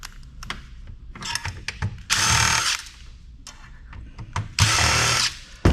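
Screwdriver working Torx screws out of a server motherboard, with short ratcheting clicks and handling noises close by, and two louder buzzing bursts of a powered driver spinning.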